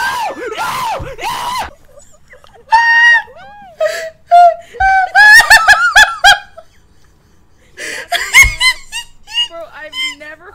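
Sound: people screaming

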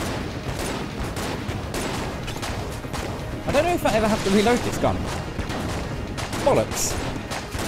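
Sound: rapid gunfire from a gun in video game Enter the Gungeon

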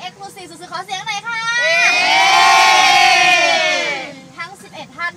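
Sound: group of tourists cheering

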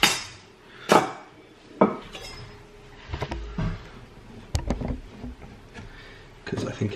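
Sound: chopping board taken out and handled

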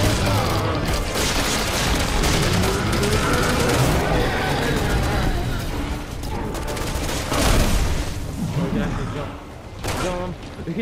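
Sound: gunfire in video game Resident Evil 6

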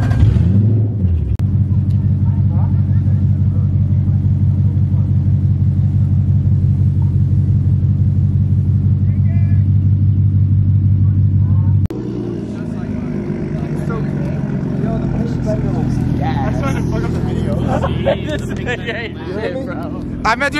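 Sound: loud van engine rumbling

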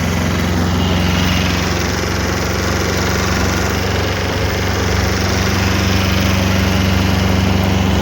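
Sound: small tractor engine running

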